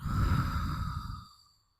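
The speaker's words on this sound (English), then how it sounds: "let's take a deep breath in and out" A single deep breath drawn in and slowly let out during a guided relaxation exercise, a soft, close airy sigh that fades to silence after about a second and a half, with no talking.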